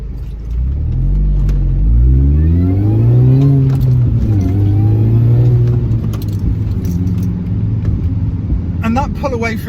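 Supercharged R53 Mini Cooper S pulling away from traffic lights, a loud in-cabin engine note rising through the revs with a whining tone, then easing off; a voice speaks over it.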